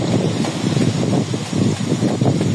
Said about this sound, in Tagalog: At malakas yung hangin talaga